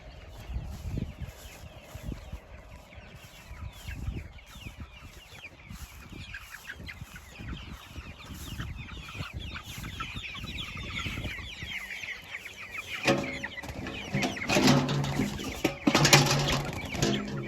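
Several meat chickens cluck and murmur close by, with scratching and shuffling, growing busier and louder toward the end.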